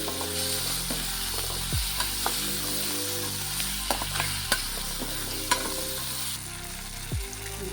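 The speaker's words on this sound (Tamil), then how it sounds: "மலைப்பூடு இதையும் போட்டு நல்லா வதக்கணும்" Hill garlic is sautéed in a pan, a constant close frying hiss with periodic scraping strokes and small ticks as a spoon stirs through it, and no voices.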